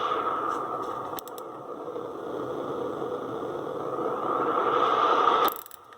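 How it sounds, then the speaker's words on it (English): Circuit-bent noise machine set to its ocean effect, producing a steady broadband hiss with slow swells that builds louder toward the end, then cuts off abruptly. "So here's ocean."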